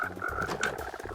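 Cold frogs croaking in Minecraft, a steady run of low, throaty croaks with bright tonal calls overlapping, close and moderately loud, with no voices.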